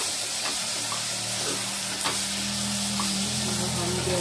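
Diced potatoes fry in hot oil in a home kitchen pan, giving a steady, close, broadband sizzle with occasional stirring scrapes and a low hum underneath; no one speaks.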